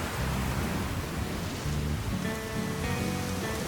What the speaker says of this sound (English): now of course it's raining